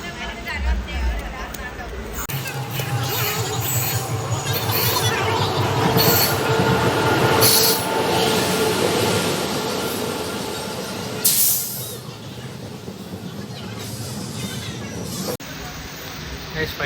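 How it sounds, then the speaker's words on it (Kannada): The Kanyakumari Express rolls into a station platform with a loud rumble, clattering wheels and high metallic squeals that swell and fade, while people talk nearby. "ನಮ್ಮ ಟ್ರೈನ್ ಬಂತು ಫೈನಲಿ."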